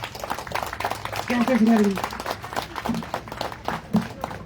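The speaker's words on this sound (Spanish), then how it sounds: "un aplauso para todos" A church congregation applauds during an Easter Sunday service, a moderate patter of clapping from many hands underneath a voice speaking over it.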